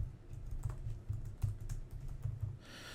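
Fingers tap out a password on a computer keyboard in quick, uneven clusters of soft clicks, close and quiet, ending with a faint rustle.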